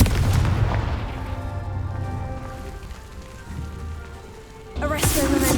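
Confringo fire-blast spells exploding in Hogwarts Legacy, deep rumbling booms under a steady crackling roar, with a sharper burst and bright hiss near the end.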